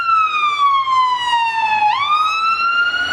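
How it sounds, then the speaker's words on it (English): Police siren wailing loud and close, its pitch sweeping down then jumping back up as it passes, steady and continuous with no talk over it. "a siren kicks in right as we talk about you being here illegally"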